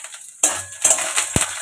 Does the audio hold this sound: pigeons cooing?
no